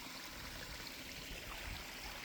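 A new pond pump outlet lets water trickle and splash steadily into a pond, a continuous soft close-up wash of running water with no voices.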